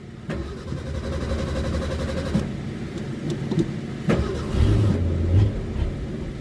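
A classic Ford car engine struggles through a cold start, cranking in uneven bursts before catching and revving briefly, heard close with no talking.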